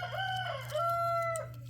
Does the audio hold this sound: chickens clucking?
yes